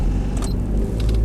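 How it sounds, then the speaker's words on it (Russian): Car engine running after standing a full day in frost and a blizzard on Sakhalin: a steady, close, low rumble with a faint higher whine, no voices. "Ну что ж, попытаемся завести машину."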